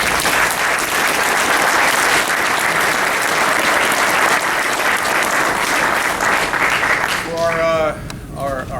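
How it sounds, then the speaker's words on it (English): A room full of people claps at a pilot winging ceremony. The dense, steady applause runs for several seconds close by, then fades as a voice begins speaking near the end. "So just a big round of applause for yourselves and our IPs."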